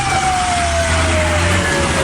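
Fire engine siren wailing at a warehouse fire, a steady sweeping tone held over a low rumble of traffic and engines throughout, fairly close and loud with no talk.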